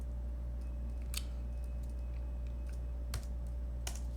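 A few sparse keystrokes on a computer keyboard while editing a shell profile in the vi editor, faint and isolated clicks over a steady low hum.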